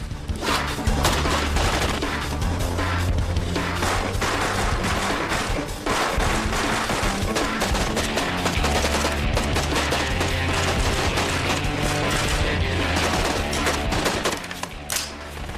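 AK-47 rifles firing long, dense bursts of automatic fire, the rapid shots blurring into a nearly continuous roar with heavy thumps, loud and sustained from start to finish.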